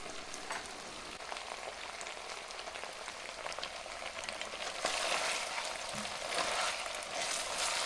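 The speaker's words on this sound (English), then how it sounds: "You're toasting your meat right now. You hear it?" Pork pieces for chili verde toasting in a pan once the liquid has cooked off, a continuous crackling sizzle with scattered sharp pops that grows a little louder toward the end.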